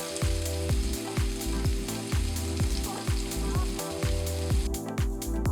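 Small pancake treats made from flour and milk fry in a pan with a loud, continuous sizzle, set against a steady rhythmic background beat.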